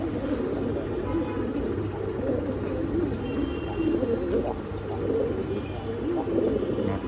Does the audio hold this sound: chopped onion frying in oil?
no